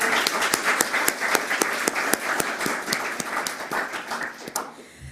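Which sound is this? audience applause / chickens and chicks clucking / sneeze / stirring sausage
audience applause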